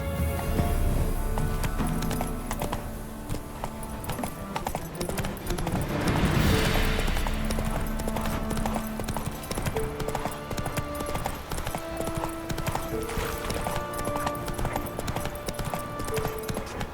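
Hoofbeats of Geralt's horse Roach galloping in The Witcher 3, a steady clip-clop rhythm under continuous game music and ambient sound, with a brief whinny-like swell near the middle.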